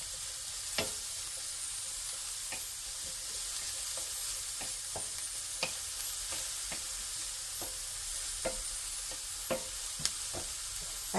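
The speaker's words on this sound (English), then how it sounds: "I just cook this for about a minute or 2 until I can smell the onions fragrance" Onions cook in a pan for stuffed portobello mushrooms, with a low steady sizzle and regular sharp ticks and clicks of a utensil stirring against the pan.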